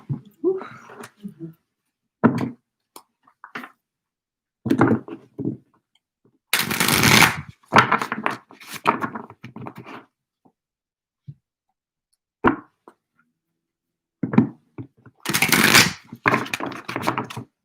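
Tarot cards are shuffled in short bursts of riffling and sliding, some loud and close, separated by pauses with a person speaking softly in between.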